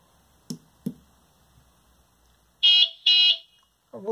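A car horn sound effect from a Franzininho board sounds as two loud, close honks in quick succession, preceded by a couple of soft clicks and followed by the start of a voice.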